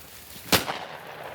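A single loud shotgun blast rings out during a bobwhite quail hunt in open country near Tallahassee, a sharp crack followed by a brief echoing tail against quiet outdoor background.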